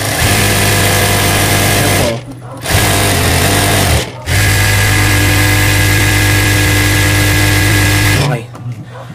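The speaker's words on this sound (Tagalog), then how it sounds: "Paandarin natin yung makina, ito yung magpapatunay sa inyo na yung langis niya umakyat talaga sa taas." A single-needle high-speed industrial sewing machine runs loud and close with a steady whirring drone. It cuts out briefly twice, stops near the end, and a voice talks over it.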